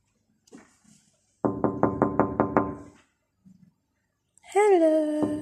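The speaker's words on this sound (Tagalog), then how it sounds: "Nakikinig siya sa katok ko eh." A person knocks on the cage of a peacock-like pet bird in Kuwait to get its attention: a quick run of about six sharp raps, close and loud, followed by a brief bird call.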